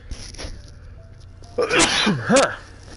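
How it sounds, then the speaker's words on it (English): A person gives one big, sudden sneeze that bursts out loud and close after a few quiet moments of faint background sound from a video game. "Had a big sneeze."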